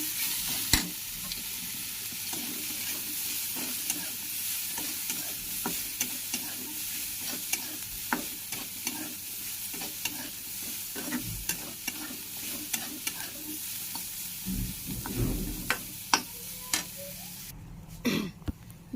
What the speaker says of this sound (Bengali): দেখো আমি তিত কামড়া ফুল এখনও ভাজি